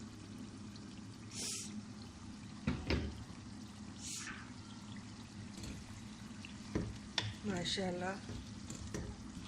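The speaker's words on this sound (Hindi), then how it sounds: "अब ये पानी के बगैर फ्राई करेंगे।" Boiled mutton fries without water in a pot for mutton karahi, giving a low continuous sizzle. Stirring clanks and scrapes break in several times, and a voice speaks briefly over the cooking.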